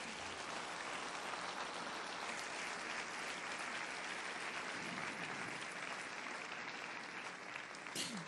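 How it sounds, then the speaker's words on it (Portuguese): A church congregation applauds steadily throughout, a dense, even wash of many hands clapping at moderate distance with no break. "Aplauda então ao Senhor"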